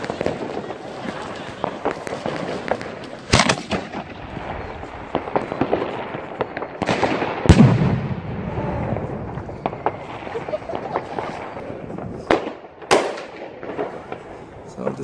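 New Year's Eve firecrackers exploding outdoors: several sharp, loud bangs and cracks burst out at irregular intervals over a crackling background, with voices in between.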